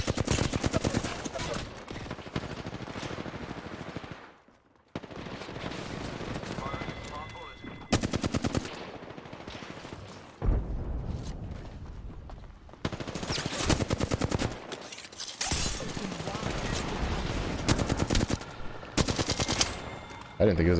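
Video game gunfire: loud bursts of rapid automatic fire come in several long volleys broken by short pauses, with a few single shots, close and dominating the mix.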